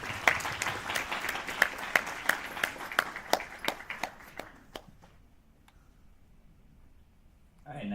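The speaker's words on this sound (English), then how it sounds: "One more round of applause for these guys." Audience applause for presenters at a university ACM student project showcase, a burst of dense clapping that thins into scattered individual claps and fades to near silence, with voices audible early on.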